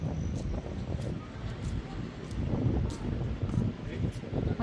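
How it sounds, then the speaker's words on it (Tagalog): Very strong wind sweeping through an outdoor market area in the UAE, a continuous heavy rushing roar pounding the microphone without letup, with faint voices buried underneath. "Super lakas ng hangin dito."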